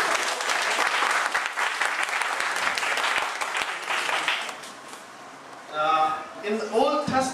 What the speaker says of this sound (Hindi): ताली बजा दीजिए अपने लिए.